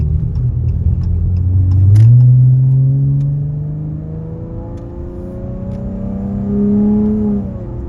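A car engine fitted with J-pipes revs up and pulls hard on a freeway, its pitch climbing smoothly through the gears as road noise rumbles underneath.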